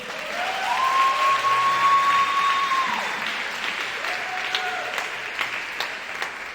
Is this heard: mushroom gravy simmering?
no